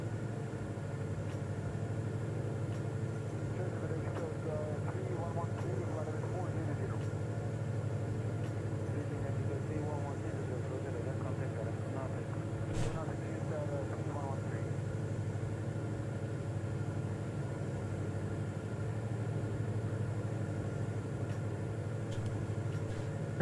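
Constant low droning hum of an aircraft engine set to cruise power at cruise altitude in Microsoft Flight Simulator, an even, unchanging rumble with faint voices talking quietly beneath it.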